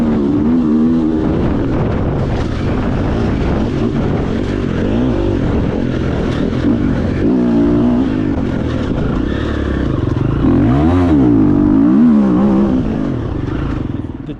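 Triumph TF 250-E enduro motorcycle ridden through woods, its engine running continuously and loud, pitch rising and falling with throttle, with wind buffeting the microphone.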